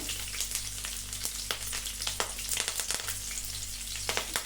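Garlic and green chillies fry in hot oil in a pan, giving a steady crackling sizzle with frequent sharp pops and spits. The sound is close and continuous, with no voices over it.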